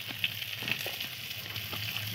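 Onions frying in a pan with a spoonful of sugar added, a steady low sizzle with faint crackles throughout, close and alone with no talking.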